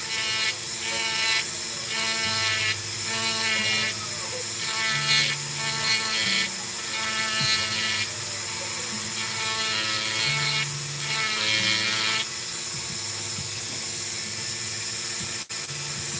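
A high-speed rotary tool spinning at about 15,000 RPM cuts borders into polymer, giving a steady high whine with rapid ratcheting, gritty bursts as the bit bites in and out, close and continuous without talk.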